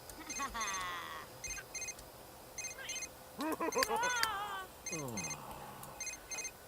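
A telephone rings in The Sims 3 game as a quiet, evenly spaced run of electronic tone bursts, with a voice talking over it.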